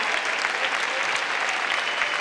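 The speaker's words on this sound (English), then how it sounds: "Let's give them some applause." A commencement crowd applauds in a large hall, thick continuous clapping from many hands at steady loudness throughout the short stretch, with no distinct voices rising above it.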